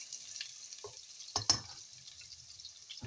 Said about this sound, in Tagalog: Now let's saute now onions.